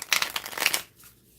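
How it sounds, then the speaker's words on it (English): Riffle shuffling of an oracle card deck, heard as a quick, close burst of crisp flutter and snapping lasting under a second, followed by a faint settling rustle and near silence. "Did you hear that riffle?"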